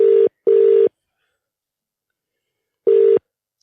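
Three electronic phone ringtone bursts, two close together then a third after a pause, loud and clean with no one speaking, an incoming call on a phone in a vehicle crossing Mongolia.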